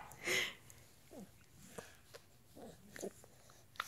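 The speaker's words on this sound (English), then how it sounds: "Sounds like the dog's just gotten a tiff." A dog gives a few short, faint yelps and whimpers, with an early louder burst and then scattered quieter cries in a domestic room.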